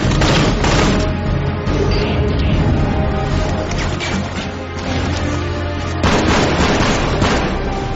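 Sustained barrage of gunfire and booming blasts from a ten-year-old video game, loud and continuous throughout with dense overlapping shots and no voices.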